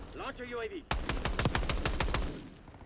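Rapid automatic gunfire in Black Ops 6, a loud sustained burst of closely spaced shots with the weapon's recoil kicking through, following a brief stretch of voice at the start.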